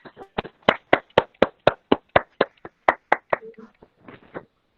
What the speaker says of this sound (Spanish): le vamos a dar otro aplauso